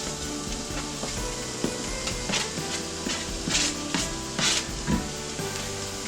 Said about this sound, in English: I've got some breakfast sausage here and I'm just putting them into my frying pan